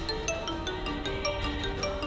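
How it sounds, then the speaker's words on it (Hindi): A phone ringtone plays a bright repeating electronic melody, steady and fairly loud, with no voices over it. "चुड़ैल का ही फोन आ रहा है।"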